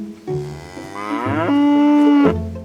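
A cow in the medieval video game Kingdom Come: Deliverance gives one long, clear, drawn-out moo that rises and holds before trailing off.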